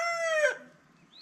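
A homestead rooster crows once, a loud drawn-out cock-a-doodle-doo fading into a quiet background, with a faint higher call starting at the end and no talking.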